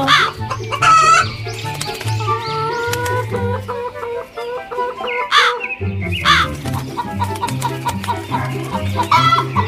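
Hens cluck and squawk repeatedly over a steady musical backing, the clucks loud and close with a rooster-like call breaking in.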